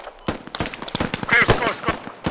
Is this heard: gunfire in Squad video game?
yes